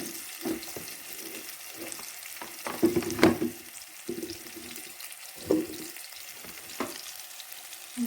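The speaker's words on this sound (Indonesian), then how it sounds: "Ini kita tumis dulu sampai agak layu sedikit, baru kita masukin sayur-sayurnya" Rebon shrimp sautéed in a pan with petai, giving a soft, low sizzle with a few scrapes and clatters from stirring and some intermittent watery splashing.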